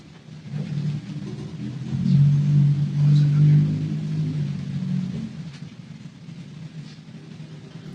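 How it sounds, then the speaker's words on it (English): A loud car without a muffler passes outside in Ohio, a deep rumbling exhaust swelling over a few seconds and then fading slowly, heard from indoors. "Do people just not have mufflers on their cars in Ohio? Why are so many cars so loud?"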